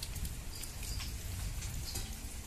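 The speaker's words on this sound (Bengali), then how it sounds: "বৃষ্টি হয়েই যাচ্ছে" Steady rain falling during a windy, prolonged downpour, a faint continuous patter hissing evenly in the background with no talking.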